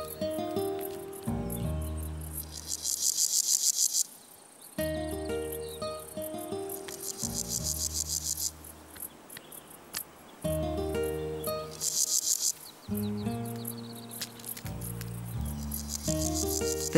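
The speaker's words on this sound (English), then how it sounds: "Loud and clear, male grasshoppers announce their readiness to mate." Male grasshoppers stridulate in the dense grass of a traditional orchard meadow, sending bursts of rapid, rasping chirps that rise and fade in repeated phrases under a low musical backdrop.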